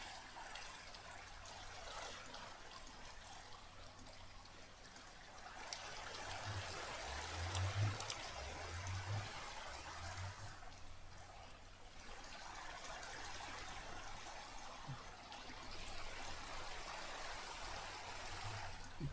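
Water flows steadily in a video game, a soft continuous trickle over leaves that stays faint and even throughout, with a low rumble underneath.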